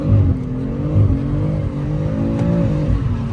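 A BMW M3 drift car held at full throttle, its engine droning loud and steady at high revs with a slight wavering pitch, close and continuous with no talk.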